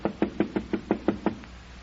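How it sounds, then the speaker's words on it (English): Seven or eight close, hollow knocks on a locked door in a Christmas radio drama, evenly spaced and fairly loud, then stopping, with no voices. "they knocked and knocked, but the door was locked"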